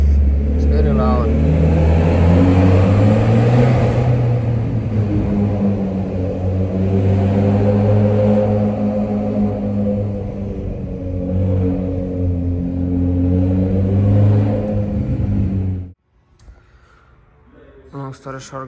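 A Mitsubishi Evolution X with a full titanium exhaust revs loudly nearby for about fifteen seconds, its rumble swelling and easing in waves before cutting off abruptly, and someone talks over it.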